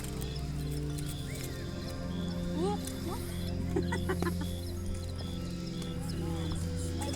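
Occasional chicken clucks over a steady background hum, with voices talking nearby, at Wadi Shawka Dam Park in the UAE.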